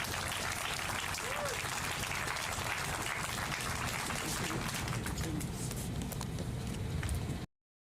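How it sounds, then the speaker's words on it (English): An audience claps at a city press conference, a dense, steady burst of applause held at even volume for about seven seconds before cutting off abruptly, with faint voices mixed in underneath. "Let's give her a round of applause for coming."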